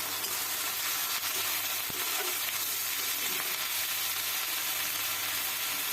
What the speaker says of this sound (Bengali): এই পর্যায়ে দিয়ে দিচ্ছি আমি সেই রসুন আর জিরার পেস্টটা